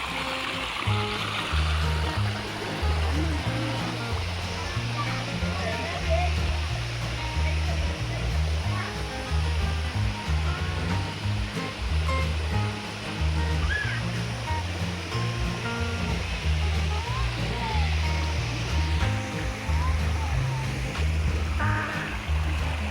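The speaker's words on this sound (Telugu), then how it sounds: "ఈ స్ట్రీమ్ అంతా ఇందాక ఒక వాటర్ ఫాల్ చూపించా కదా," A stream fed by a waterfall flows steadily at the Pilikula lake garden in Mangalore, giving a constant loud rushing wash of water, with voices faintly audible underneath.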